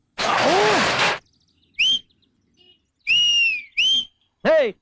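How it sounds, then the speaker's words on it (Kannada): A person whistles in a comedy skit: a brief noisy burst, then several clear, high, sliding whistle notes in short separate blasts, close and loud, with silent gaps between them. "ಯಾವನ ಎಂಬಲ್ ನೋಡಿ ಸೀಟಿ ಹೊಡಿತಾ ಇರೋದು?"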